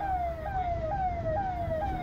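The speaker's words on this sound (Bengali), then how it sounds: "তখন দেখলাম মাঝে মাঝেই সাইরেন বাজিয়ে ভিআইপিদের আনাগোনা চলছে।" A VIP convoy siren wails in a repeating falling sweep, about four cycles, steady and fairly loud amid the crowds at the Kumbh Mela in Prayagraj, with no voices.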